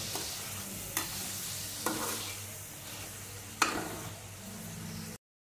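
Tomato pieces frying in a pan with soya chunks and eggplant, a quiet continuous sizzle punctuated by three or four brief scraping stirs, close and without speech.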